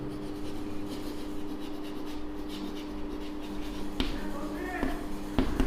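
A pen draws a diagonal line across a board, with steady soft rubbing and scratching and a few light taps near the end, heard against a constant background hum.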